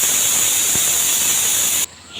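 Steam hisses sharply and loudly in a steady jet from a pressure cooker holding chopped jackfruit and water, then cuts off abruptly near the end, leaving quiet kitchen air.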